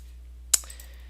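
A single sharp computer mouse click on a filter button, short and crisp, with a faint steady hum around it.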